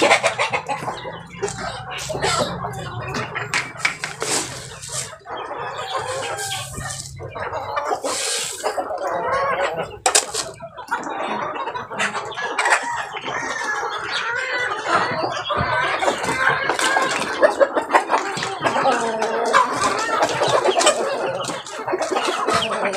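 A flock of native chickens on a small mini farm clucks and chatters continuously, with overlapping calls near and far, bursts of squawking, and a brief crow-like call, lively throughout.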